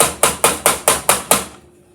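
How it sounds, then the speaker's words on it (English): Six sharp, evenly spaced taps in quick succession in a kitchen while cooking macaroni and cheese, loud and close, ending abruptly. "Sorry for the tapping."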